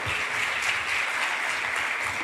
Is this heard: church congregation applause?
yes